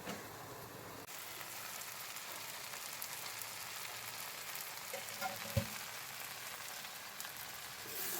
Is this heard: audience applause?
no